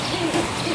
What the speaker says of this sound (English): Listen to the owl.